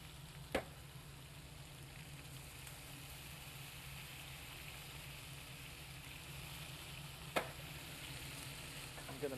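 Peppers roast in a pan with a steady, low sizzle and crackle, broken by a couple of sharp clicks or taps, fairly faint and with no talking.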